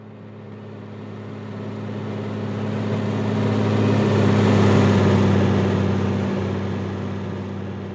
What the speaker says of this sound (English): let's bring up our Doppler, which the car engine sound is routed to